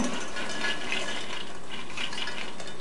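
Water from a can of beans being poured out into a sink, a steady splashing, trickling stream that runs continuously, fairly close and moderately loud, with no talking.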